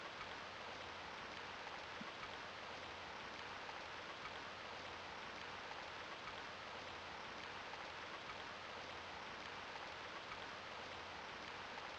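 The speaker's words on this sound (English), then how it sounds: "Looks like it's starting to drizzle." Steady drizzling rain hisses evenly throughout in the Gunnm PS1 game, a constant soft wash of fine droplets with no other distinct sounds.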